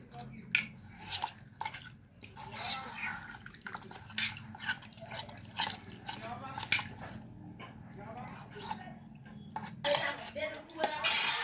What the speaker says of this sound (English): I'm trying to mix the paste since it has stayed for long and it has become so hard